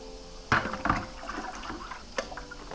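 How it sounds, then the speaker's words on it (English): Tap water poured into an aquarium for an African cichlid tank, soft splashing and trickling with a couple of sharper sloshes, quiet and close. "because of the way I pour the water"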